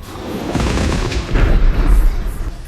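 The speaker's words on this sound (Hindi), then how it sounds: "अचानक एक तेज चमक, एक जोरदार धमाका" A deep, rumbling blast roars continuously with heavy low-end boom, swelling louder midway through, loud and close, with no voices.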